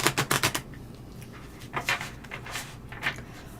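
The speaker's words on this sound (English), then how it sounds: "One more shuffle. I've shuffled them good." Tarot cards are shuffled by hand in a quick run of crisp riffling flicks at the start, followed by sparser, softer card rustles and taps at close range.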